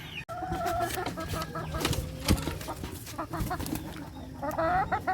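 Hens sick with a cold cluck in overlapping, irregular calls from several birds, with a few higher squawks breaking through a steady farmyard background.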